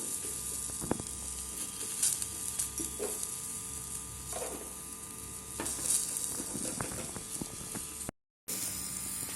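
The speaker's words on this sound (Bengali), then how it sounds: "মাথাটার সাইডে ভাজা হচ্ছে" Steady oil sizzling as a fish head fries in minimal oil in a pan, with occasional pops and clinks of a utensil, no voices.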